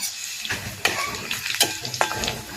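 Spices fry in oil over a wood-fired chulha, a steady, close sizzle with crackles and sharp pops spaced through it.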